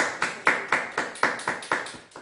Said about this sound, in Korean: 예배를 받아주신 하나님께 감사와 영광의 박수 올려드립니다.